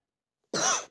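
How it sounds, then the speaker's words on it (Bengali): A single short, throaty cough bursts out after half a second of silence, close and fairly loud. "হঠাৎ করে কাশি চলে এসেছিলো।"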